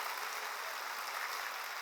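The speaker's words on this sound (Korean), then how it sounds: "박수치라 이게야." A church congregation claps during a sermon, a faint, even wash of applause held at a steady level throughout.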